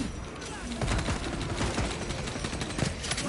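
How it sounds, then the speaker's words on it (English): Gunfire in the video game Warhammer 40K: Space Marine 2, rapid bursts of automatic fire crackling continuously at moderate loudness with a dense, noisy battle texture. "It's like they ain't even hear gunfire happening."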